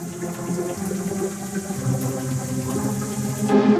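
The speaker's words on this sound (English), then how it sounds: "To cool it down, it is simply placed in clean, cold water" A hot gold bar is lowered into clean cold water, producing a continuous close gurgling, bubbling wash that swells slightly near the end.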